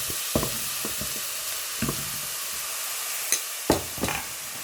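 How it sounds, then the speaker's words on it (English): Rice with a pinch of chili flakes fries in a pan for beetroot rice, a steady low sizzle broken by a few sharp scraping stirs and clatters. "I'm gonna add some tiny bit of chili flakes, and I'm gonna put my rice inside"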